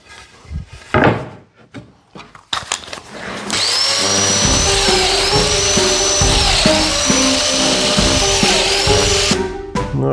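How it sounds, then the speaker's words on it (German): An old, struggling router mills slots in 20 mm solid wood for bed frame corner joints, starting after a few knocks and rustles; a loud sustained whine with rhythmic pitch dips and chattering cuts runs until a sudden stop. "Jetzt fräse ich die Schacheten hier ein"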